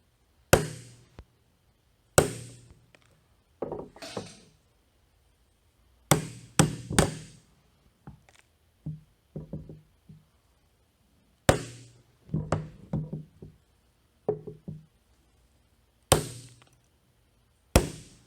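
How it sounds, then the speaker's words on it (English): A hammer taps a U-joint cap out of a 2005 Xterra driveshaft yoke held in a vise, giving sharp metallic knocks in scattered single hits and quick clusters, close and loud, with quiet gaps between. "I'm going to try and just tap this out."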